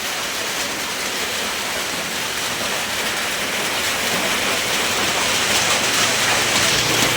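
Steady rain pours down in a dense, even hiss with no pauses, close and fairly loud throughout.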